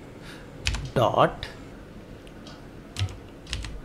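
Computer keyboard keys click in a few quick bursts of typing, close and fairly clear, with someone speaking briefly over them.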